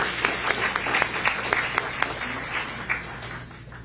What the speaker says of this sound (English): another round of applause for all of our awardees